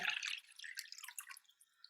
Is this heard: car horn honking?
no